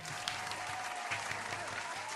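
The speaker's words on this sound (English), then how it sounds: "So, round of applause to Twink for helping me laugh that hard." A brief round of applause for a trivia stream awards segment, soft, even clapping that sounds distant and thin, like a canned or small-crowd cheer played quietly.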